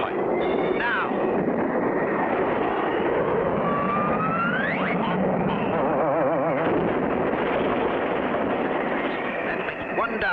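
A cartoon airplane roars continuously at takeoff, with rising whistles and zany sound effects layered over it while a character talks throughout.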